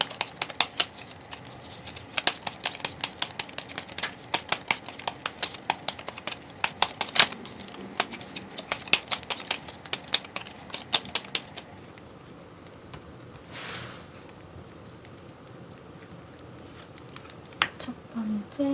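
Tarot cards are shuffled by hand in rapid, crisp rhythmic flicks and riffles for about twelve seconds, close up, then the sound thins to a quieter hush with a few soft card taps.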